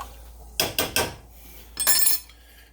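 A spoonful of Lakshmi brand ginger paste goes into a pot of noodles: three quick, close metallic taps of a spoon on the pot, then a brief scraping clatter, with no talking.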